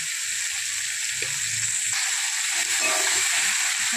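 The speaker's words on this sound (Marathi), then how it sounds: "लसूण थोडंसं लाल झाले, आता टाकत आहोत टमाटा।" Tomatoes and salt sizzle in a pan with reddened garlic while cooking a spicy bitter gourd dish, a steady close frying hiss with occasional stirring clatter and no talk.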